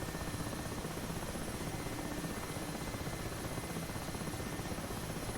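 Steady rotor thrum and turbine whine of an Mi-8 Hip helicopter in DCS World, continuous and loud throughout with an even, unbroken drone.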